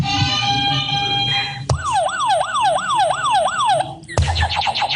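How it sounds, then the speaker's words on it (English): Game show buzzers being tested go off one after another: a steady tone, then a rapid warbling wail, then a burst of chirping beeps, loud and close. "before we begin, test your buzzers"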